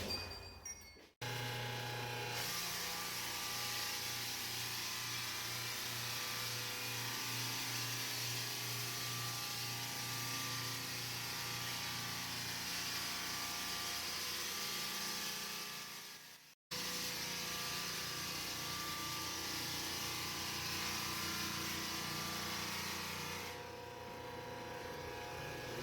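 A floor sander grinding across a hardwood floor during refinishing, a loud, steady machine drone with a low hum that carries on almost without a break, cutting out briefly once before starting up again.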